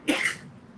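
A single short sneeze bursts out close by, sharp and brief, then fades into quiet room tone.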